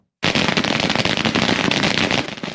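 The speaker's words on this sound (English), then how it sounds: "After the fireworks calmed down early New Year's Day" New Year's Day fireworks in Pearl City, Hawaii: a dense, continuous crackle of rapid firecracker pops and bangs that starts abruptly and stays loud, with no let-up across the whole stretch.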